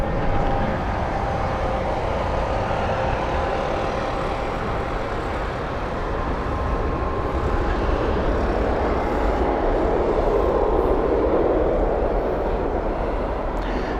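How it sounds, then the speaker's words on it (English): A brand-new Boeing 737 MAX arrives at Heathrow on a sunny day, its engine noise a sustained, fairly loud rumble and whine that swells slightly near the end, with no talk. "Brand new 737 MAX."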